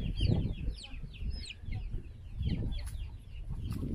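Chickens near a coop cluck and chatter in quick, overlapping bursts at close range. Low murmuring voices and rustling run underneath.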